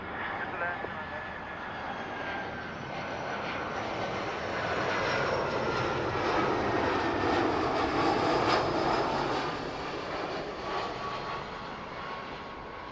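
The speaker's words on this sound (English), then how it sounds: "Now hardly any tyre smoke from the Austrian. Super smooth touchdown." An Austrian airliner touches down smoothly on runway 09 left at Heathrow Airport, a steady broad jet engine roar holding loud throughout and swelling slightly midway, with a voice talking over it.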